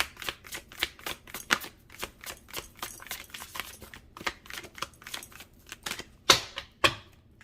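Tarot cards being shuffled by hand, a rapid run of crisp flicks and riffles with a few sharper snaps, close and clear with no talking.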